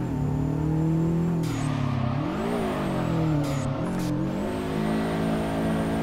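A car engine in the drifting game DRIFT21 revs hard and steadily, rising and falling through gear changes with brief dips in pitch. It sounds close and continuous, with faint tire noise and no talking.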